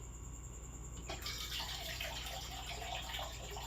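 Mineral water poured into a measuring cup for a flour mix, a steady close splashing stream that starts about a second in and runs to the end, with no talk.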